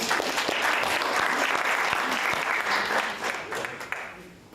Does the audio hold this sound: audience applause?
yes